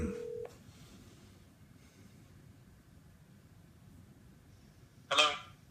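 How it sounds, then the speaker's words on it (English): Telephone being dialed: a steady dial-tone hum cuts off, then after a stretch of low background noise a quick cluster of touch-tone beeps sounds near the end. "Let's just dial the phone."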